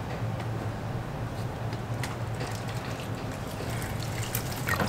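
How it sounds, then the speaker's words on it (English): Water poured from a cup into a small shrimp tank makes a steady, close trickling and splashing that runs continuously for several seconds with no talk. "So now we're gonna get to add the water."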